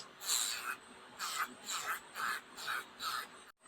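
Electric nail drill filing nails: a quiet, rasping grind in about seven even strokes of roughly half a second each, close and alone, ending in a short silent drop.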